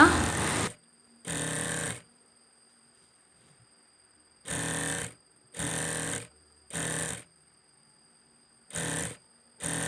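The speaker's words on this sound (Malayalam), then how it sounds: "നല്ല പീസ് മാത്രം വെച്ച് താഴെ വരെ സ്റ്റിച്ച് ചെയ്തെടുക്കുക" Sewing machine stitching an abaya's lining runs in distinct bursts of one to two seconds with quiet pauses between them, a steady motor whir repeated six times, close and loud with no talking.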